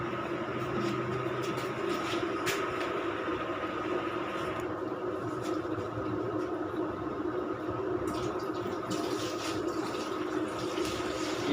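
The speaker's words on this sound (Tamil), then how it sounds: "அந்த பிளாஸ்டிக் பவுலு, அதில் என்ன பண்ணோன்னா ஃபுல்லாக தண்ணி ஊற்றணும்." Water pours steadily into the plastic water bowl of an automatic 80-egg incubator, a continuous close splashing and trickling fill that runs evenly without pause and with no voices.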